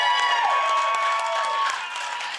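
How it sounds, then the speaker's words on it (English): An audience at a college esports championship final applauds and cheers for Maryville, a broad sustained wash of clapping and crowd noise that slowly eases toward the end. "please, one more large round of applause for Maryville."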